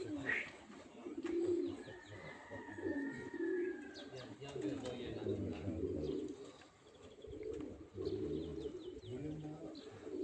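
Racing pigeons released at the start of a race coo and call in a close flock, with repeated low warbling coos, brief chirps and some voices talking over the birds.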